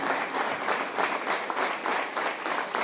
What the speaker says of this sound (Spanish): Aplausos a Dios fuerte.